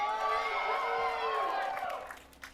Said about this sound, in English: Crowd excited that EG have a great chance of being able to win here